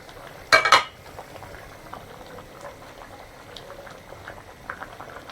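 Bottle gourd leaves boil in a pot with a low bubbling simmer and scattered soft pops, opened by a short sharp clatter of a utensil against the pot near the start, no voices.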